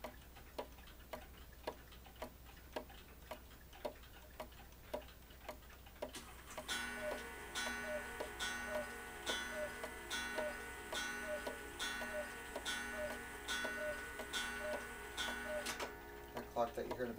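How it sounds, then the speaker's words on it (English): A cuckoo clock ticks steadily in the background, evenly spaced clicks at first, then a bright, dense ringing layer of other clock sound joins in from about six seconds on. "That clock that you hear in the background is my cuckoo clock"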